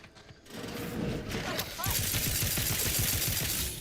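Automatic weapon fire in The Outer Worlds 2 cuts in after a quiet start as a rapid, rhythmic burst of shots over mechanical clatter, continuing steadily to the end with a voice nearby.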